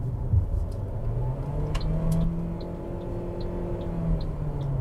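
A Ford Territory Titanium 2023 pulls away from a standstill in normal mode, its engine revving into a loud, steady drone that holds and slightly shifts pitch, with a few faint ticks over it and no talk.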